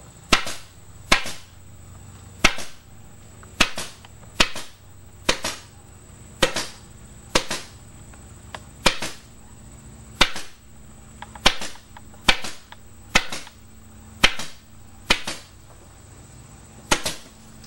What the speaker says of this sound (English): Staple close to the edge, closest to the cording as possible.